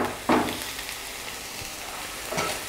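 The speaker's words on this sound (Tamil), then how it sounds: "இப்போ வெங்காயம் வதங்கிட்டுருக்கு" Onions sautéing in a hot pan along with finely chopped green chilli for a cabbage stir-fry, giving a steady close sizzle with two sharper hissing bursts as the food is stirred or moved.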